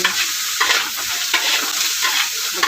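Seasoning of salt and MSG being stirred into food frying in a wok: a loud, continuous sizzle with rhythmic scraping strokes of the spatula, close up and alone.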